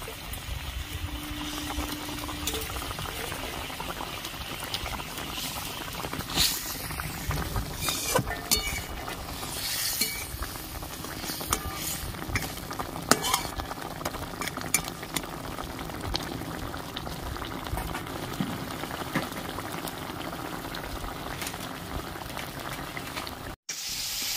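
Fried koi fish simmering in boiling gravy for Barishal-style tel koi, a steady close bubbling and sizzling that runs unbroken with faint stirring scrapes.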